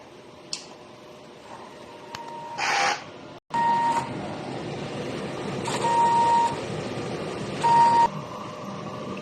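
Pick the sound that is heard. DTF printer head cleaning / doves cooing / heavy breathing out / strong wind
DTF printer head cleaning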